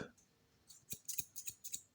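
Metal scissors from a WONER HC818B hair and beard clipper kit being handled, giving about six short, sharp metallic snips and clinks at close range, with no talking.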